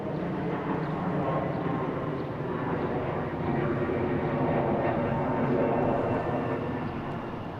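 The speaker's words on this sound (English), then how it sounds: "All right, we have a Delta coming in from Chicago, A319, flight 2816." A Delta Airbus A319 arriving at Boston Logan International Airport, a broad steady jet roar heard from a distance, holding at an even level for the whole stretch with no voices.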